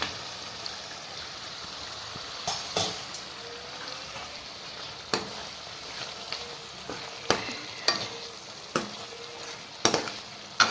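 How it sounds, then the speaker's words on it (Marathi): Drumstick pods sizzle in hot oil and masala in a pan, a steady frying hiss broken by frequent sharp clatters and scrapes of stirring. "चला आपण टाकूया मसाल्यामध्ये शेंगा"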